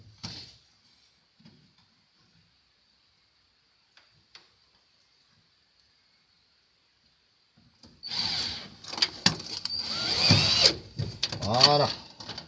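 A power drill bores into wood while a table for a car is being built, biting in loud and close with rising and falling whine over the last few seconds after a quiet stretch of faint ticks.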